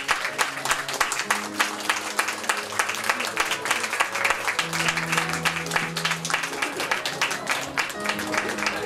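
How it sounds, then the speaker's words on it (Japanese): An audience at an idol group's single-lineup announcement event in Osaka claps to welcome a member onto the stage, moderately loud applause running for several seconds over a rhythmic backing track with a steady beat. "大きな拍手でお迎えください。"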